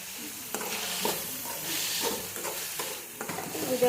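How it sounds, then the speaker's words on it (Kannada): Ingredients for ridge gourd chutney sizzle steadily in a pan while a spoon stirs them, making repeated scraping strokes over the close, continuous frying hiss. "ಇದೆಲ್ಲನೂ ಫ್ರೈ ಆದಮೇಲೆ ಮಸಾಲ ಆ್ಯಡ್ ಮಾಡಿ"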